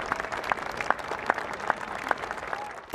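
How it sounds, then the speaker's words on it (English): A crowd outside palace gates breaks into applause after Queen Elizabeth II's passing; scattered, distant clapping sounds faint and thin, with a few sharper claps standing out. "Only after the Queen had passed through the gates was there a release and applause"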